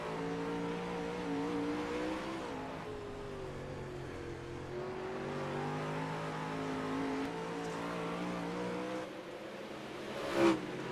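Sprint race cars circling the Cedar Lake dirt track in iRacing, a steady droning engine whine that rises and falls in pitch, fairly faint, with a brief louder bump near the end.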